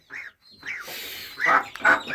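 Farm hens cluck nearby in a handful of short, rising calls, a few close and loud, over faint background noise.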